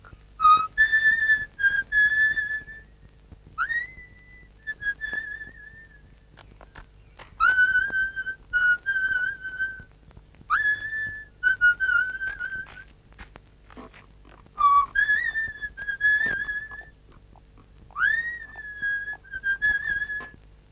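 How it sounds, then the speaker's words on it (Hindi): A person whistles a tune close by in repeated short melodic phrases with rising slides, spread across about twenty seconds with brief gaps and faint background hum. "सीटी तो तुम बहुत अच्छी बजाते हो।"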